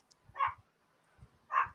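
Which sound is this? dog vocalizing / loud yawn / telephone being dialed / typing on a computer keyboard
dog vocalizing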